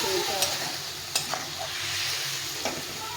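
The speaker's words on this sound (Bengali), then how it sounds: "বেশ কিছুক্ষণ নেবো ভালো করে সবজিটা কষিয়ে নিতে হবে।" Steady soft sizzling as tender stem vegetables are fried in a pan with ground spice paste and a little water, with occasional light clicks of a spatula scraping through.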